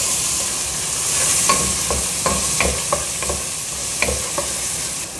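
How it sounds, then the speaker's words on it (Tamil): Chopped onion and garlic sauté in a pan for veg pasta, a steady sizzle running under repeated scraping, clinking stirs of a spoon against the pan, close and fairly loud with no talking. "அது ரெண்டையும் போட்டு கொஞ்சம் வதக்கிடலாம்."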